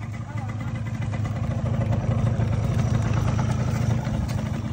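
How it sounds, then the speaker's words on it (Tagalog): A 2-stroke motorcycle engine idles quietly and steadily in a low, even rumble up close, with people talking over it throughout. "Ganda naman makina, tahimik."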